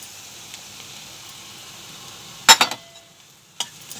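Masala sautéing in oil in a pan with crushed peanuts for a Marathi wet chawli curry: a low steady sizzle under a few sharp clinks and scrapes of a spoon against the pan, no talk.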